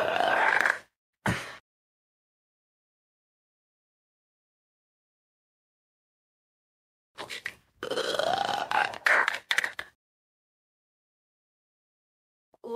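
A woman lets out close, loud burps: a short one, then a long, rumbling, drawn-out belch after a stretch of silence.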